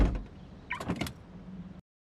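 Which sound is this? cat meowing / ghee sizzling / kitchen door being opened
kitchen door being opened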